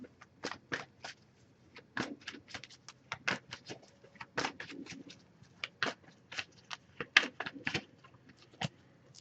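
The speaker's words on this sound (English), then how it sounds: "So give it a few more shuffles and do the same process." An oracle card deck is shuffled by hand in a quiet room, a rapid run of crisp riffling flicks and soft taps in irregular bursts, close and fairly faint with no talking.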